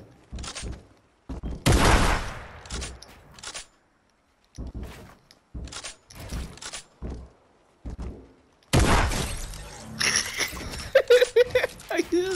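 Bursts of gunfire from the Fortnite video game come in short clustered volleys with gaps between, loud and close, ending in a denser flurry of shots and effects, with someone talking in between.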